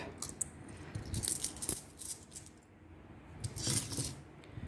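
Metal coins clink and rattle as they are dropped into a paper envelope, a few quick bursts of jingling close by with short pauses between them and no talking.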